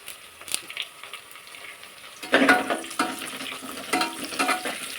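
Fresh curry leaves hit hot oil in a pan with cashews while making tomato bath, giving a soft crackle that jumps into a louder, busy sizzle partway through and keeps spattering steadily.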